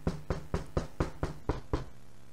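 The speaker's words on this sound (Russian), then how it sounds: "Ну тут как раз постучали в дверь." Eight quick, evenly spaced knocks on a door, close and firm, in a steady rhythm with nothing else heard.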